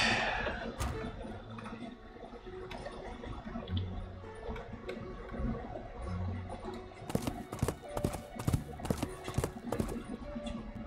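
Rhythmic hoof clip-clops from horses trotting in the strategy game Master of Magic, rising toward the end over a busy game soundtrack with clicks and low rumbling.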